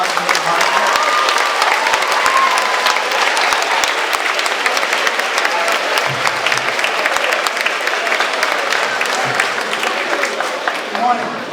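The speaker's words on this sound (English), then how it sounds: "If we can give him a round of applause, Mr. Hartnett." A school awards audience gives sustained, loud applause for Mr. Fred Hartnett, dense clapping holding steady throughout with a few scattered voices mixed in.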